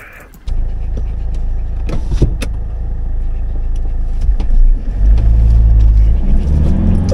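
A car driving along Bond Street behind Blackpool Pleasure Beach, heard from inside as a steady, fairly loud engine and road rumble that starts abruptly and builds slightly toward the end.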